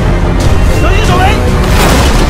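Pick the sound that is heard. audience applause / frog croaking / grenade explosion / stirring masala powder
grenade explosion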